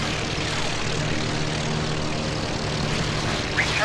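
A Gee Bee Racer's engine drones steadily in the IL-2 1946 flight game while the damaged plane's engine fails and catches fire, a close, even propeller roar throughout.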